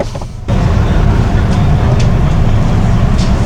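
Renault Twingo driving a lap, its steady engine and road rumble loud and close after a brief quieter start, with a voice talking over it.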